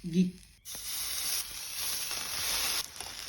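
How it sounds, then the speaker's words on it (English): Vegan bacon strips frying in a pan, a close, steady bright sizzle lasting a few seconds after a short voice at the start. "Saute for a couple minutes on each side."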